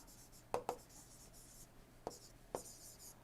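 Marker or chalk writing on a board in an engineering lecture on engine operation and carburettors, heard as a few faint, scattered scratchy strokes in a quiet room.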